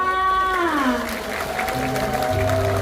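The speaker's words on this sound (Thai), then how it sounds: "เสียงปรบมือให้ทุกๆคนเลยจ้า" Applause from an audience at a Thai temple stage show where a young singer performs, steady crowd clapping under a sustained tone that bends and shifts, fairly distant and moderate in level.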